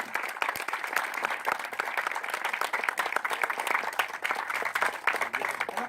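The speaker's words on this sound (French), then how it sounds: "c'est vous qui méritez un tonnerre d'applaudissements" Audience applause fills a boxing hall inauguration in Béville-le-Comte, a steady dense patter of many hands clapping at moderate level throughout, with no talk over it.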